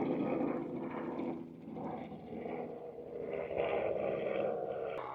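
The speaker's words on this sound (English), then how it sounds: "There's a helicopter flying over." Helicopter passing overhead on a Peak District moorland near Fairbrook Naze, a broad rumbling drone that swells and fades slightly, steady and moderately loud throughout with no talk.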